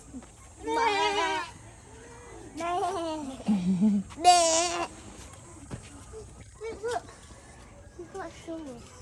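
Several loud, wavering bleats from a goat in the Bohol countryside, spaced apart, with quieter background chatter and faint noises in between.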